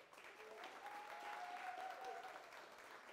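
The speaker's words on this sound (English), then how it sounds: "Let's give a round of applause to Emily Smith" Audience applause at a real estate masterclass session in Orlando, a steady wash of clapping from a crowd at moderate, slightly distant level, sustained throughout with a faint tonal hum running beneath it.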